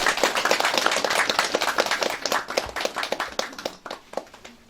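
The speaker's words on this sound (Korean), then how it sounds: "그럼 김종인 서구청장 출마 예정자를 뜨거운 박수로 맞이하겠습니다." Applause from an audience at a press conference announcing a district mayoral candidacy in Incheon, with distinct individual claps in a fairly small room, loud at first and thinning to scattered claps toward the end.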